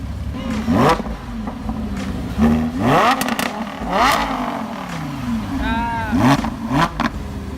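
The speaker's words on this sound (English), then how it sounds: "he's revving the crap out of the car" A Lamborghini Huracan, the base model, revs hard again and again at a supercar gathering, its engine note rising and falling in sharp bursts, loud and close, with voices in the background.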